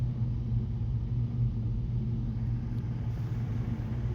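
An old car's engine, long left sitting, runs at a steady idle, a low continuous rumble heard close and fairly quiet with no voices.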